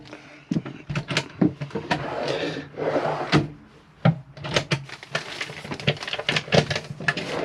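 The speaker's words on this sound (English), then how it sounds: "You've got two drawers this side" Wooden drawers in an Adria Sonic 700DL motorhome slide open and shut repeatedly, with knocks, rubs and clatters in an irregular rhythm, close and fairly loud throughout.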